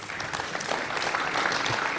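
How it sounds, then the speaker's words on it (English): Audience applause for a panelist at a national industrial policy launch, a steady wash of many hands clapping that carries evenly through the whole moment at moderate volume. "Please give a round of applause to"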